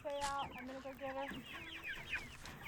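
Chickens on pasture cluck softly and repeatedly nearby, a busy overlapping chatter of short calls from several birds, faint overall with no talk.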